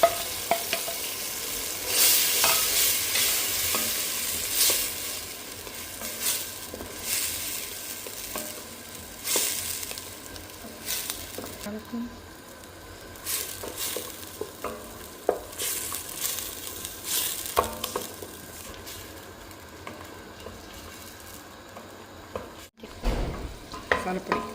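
Ground onion, garlic and ginger paste frying for mutton curry, a continuous close sizzle broken by repeated scraping stirs and spoon clatter at an uneven rhythm.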